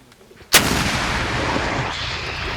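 A single heavy launch blast from a mounted anti-tank grenade launcher hits sharply out of near silence, then a long, loud rumbling roar rolls on and slowly fades.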